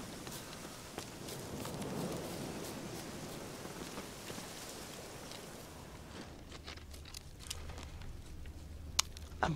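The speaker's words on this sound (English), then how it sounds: "Looks like rain" Steady rain in the video game The Witcher 3 hisses as an even wash of patter. It thins after a few seconds to scattered drops and faint clicks over a low hum, with no talk.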